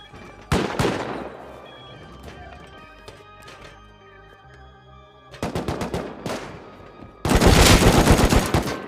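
Bursts of automatic gunfire in the survival game Rust come in rapid clusters separated by quieter stretches of scattered shots, the final burst loudest and sustained, with no talk over it.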